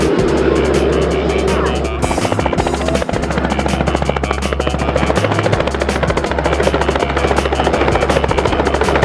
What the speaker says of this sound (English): Nat Every, one of the pilots of the Greenlea Rescue Helicopter